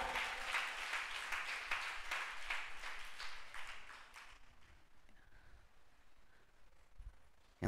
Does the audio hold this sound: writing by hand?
no